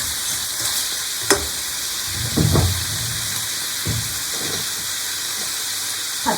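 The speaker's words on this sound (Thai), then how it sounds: "อันนี้ใส่กระเทียมลงไปนะคะ" Garlic fries in a pan for a spicy pork stir-fry, a steady hiss of hot oil with a few louder clinks and scraping stirs, heard close up without talk.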